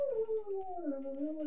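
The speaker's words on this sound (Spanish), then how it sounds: "disculpa por el ruido, es de que como tengo mi perrito aquí." A small pet dog whines in a long, drawn-out, wavering tone, close and fairly clear, with no talking over it.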